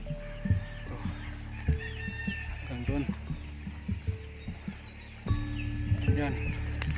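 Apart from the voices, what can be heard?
chickens clucking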